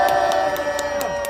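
A crowd applauds and cheers at a university students' press conference demanding Yoon Suk-yeol's removal, with steady clapping, scattered shouts and a faint constant hum throughout.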